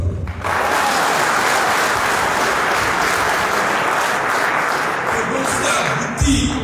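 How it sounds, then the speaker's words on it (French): A crowd at a political rally applauds loudly and steadily for several seconds, a dense wash of clapping that ends abruptly. "Vous allez applaudir ça."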